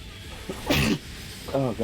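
A single sneeze bursts out briefly, fairly close, among people chatting in a quiet room while a video game plays.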